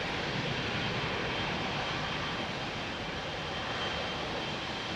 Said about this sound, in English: Big 777-200 freighter, ready to go. Could be light and go up quick.